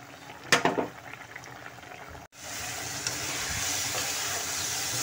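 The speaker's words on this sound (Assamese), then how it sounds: "ইয়াতে আলু মটৰ সিজাই আছোঁ এতিয়া" Potatoes and peas boil in a pot of water, a steady close bubbling hiss that runs almost the whole time, broken by a brief clatter near the start and a short cut partway through.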